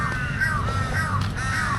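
Crows cawing in a park in Bangkok, several loud, nearby harsh caws repeating in a steady rhythm over a faint background murmur.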